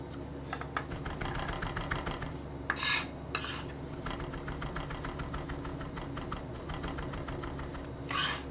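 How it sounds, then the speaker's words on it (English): A kitchen knife chopping fresh basil on a board makes rapid, even tapping strikes in a continuous rhythm, broken by a few louder bursts of knocking and scraping close by. "we got a little bit of fresh basil here. Just gonna chop it up"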